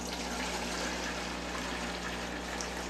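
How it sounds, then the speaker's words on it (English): Water pours steadily into a container, a faint continuous splashing rush with a low steady hum beneath, unbroken from start to finish. "we're going to take the water, pour some water in there"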